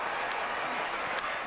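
A stadium crowd of over 90,000 cheers and applauds at a Dallas Cowboys home NFC Wild Card playoff game against the Philadelphia Eagles, a dense, continuous roar with a broadcast voice talking over it.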